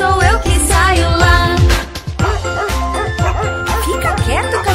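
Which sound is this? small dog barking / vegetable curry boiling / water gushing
small dog barking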